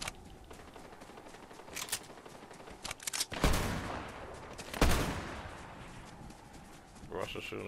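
Video game gunfire cracks in rapid bursts, with sharp single shots and a couple of heavier blasts, fairly close and punchy above a low background, with a player talking in between.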